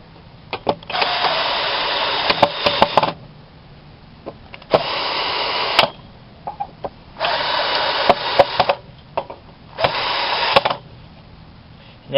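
A power drill drives four screws into a 2x4 post for a wooden shed hoop house, coming as four loud whirring bursts of about two seconds each with short pauses between them.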